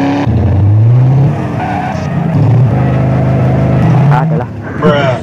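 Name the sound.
Nissan Silvia S14 tire burnout in GTA SAMP video game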